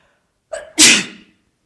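A single sharp sneeze with a short intake of breath just before the explosive burst, close and loud, then silence.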